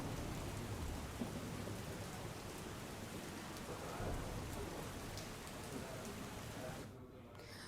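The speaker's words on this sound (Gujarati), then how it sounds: "જૂનાગઢમાં પણ અવિરત વરસાદ" Steady, continuous rain pours down in Junagadh, a dense even hiss with a faint rumble of thunder, ending abruptly near the close.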